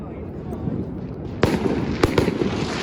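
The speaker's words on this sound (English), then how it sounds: "you guys have seen fireworks before" New Year fireworks bursting over a city in El Salvador, a few sharp cracking bangs with crackle close by, standing out over a murmuring background where people talk.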